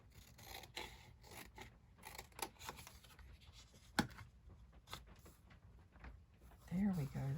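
Scissors snip through junk journal paper in a series of short, crisp cuts, close and moderately quiet, with someone talking throughout.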